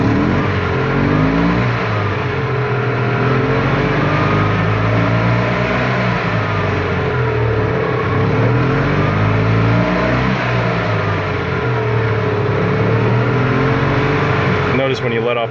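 A fuel-injected EZGO TXT golf cart with a Robin 295 engine runs steadily and revs up and down repeatedly, loud and close throughout.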